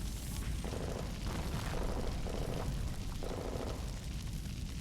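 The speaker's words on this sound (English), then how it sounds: "Another explosion erupts, following by a shower of heavy gunfire." Explosions rumble through a firefight in the video game Mirror Stage, a dense, loud wash of booming noise that swells in a few heavier surges across the stretch.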